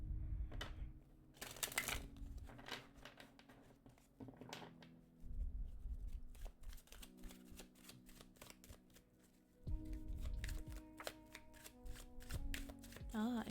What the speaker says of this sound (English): Just shuffling the cards here for you.